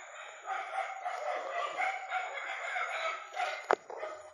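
Dogs barking at night in the Philippines, faint and distant, with a few sharp barks in a short burst near the end over a quiet background.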